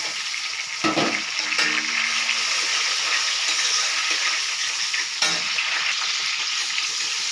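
Chopped onion, green chilli and tomato fry for a chicken curry, a steady close sizzle broken by a few louder stirring scrapes and clatters, with no talk.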